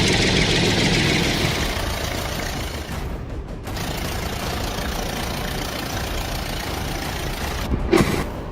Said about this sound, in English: tractor with trailer,